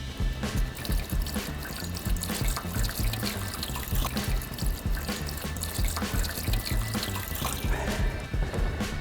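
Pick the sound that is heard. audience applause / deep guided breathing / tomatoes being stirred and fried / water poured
water poured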